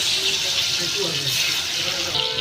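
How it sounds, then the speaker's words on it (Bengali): Mango pieces dropped into hot oil left from frying fish, giving a steady, close, loud sizzle throughout the few seconds with no break. "মাছ ভেজে রাখা তেলে এবার ওতে আমি আমটা তুলে দিচ্ছি"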